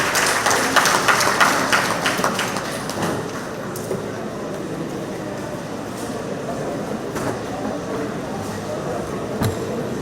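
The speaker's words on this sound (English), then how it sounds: "with a round of applause" Audience applause in a hall at a retired persons' association monthly meeting, welcoming the assistant secretary. Steady clapping is loudest at the start and eases into a sustained patter, with some voices underneath.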